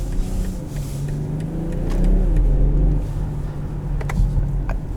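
A 2022 BMW X5 xDrive40i in sport transmission mode drives along from inside the cabin, its engine humming steadily and swelling in a short rise in revs before it settles, with road noise underneath and no talking.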